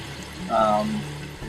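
Tap water poured into a Berkey water filter during installation, a steady pouring stream lasting about a second and a half with a brief louder splash in the middle.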